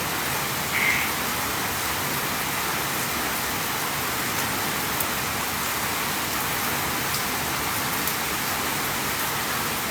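Heavy rain falls in the forest on Gunung Salak, a dense, steady hiss of downpour on foliage and ground, constant and enveloping with no pauses.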